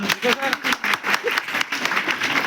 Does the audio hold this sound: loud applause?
yes